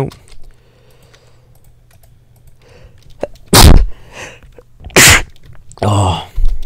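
Two loud, sharp sneezes close to the microphone, followed by a third sudden burst of breath, breaking through quiet background noise and soft keyboard typing while playing Minecraft.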